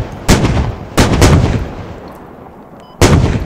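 Loud gunfire in the game Squad, as a Warrior vehicle fires tracer rounds at a BTR about 1600 meters away: three sharp, booming shots, each trailing a long rumbling decay, with no talking.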